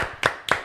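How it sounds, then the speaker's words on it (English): Two sharp hand claps spaced about a quarter second apart, close and fairly loud, from a small group in a podcast studio rather than a big crowd. "A round of applause again for Rio."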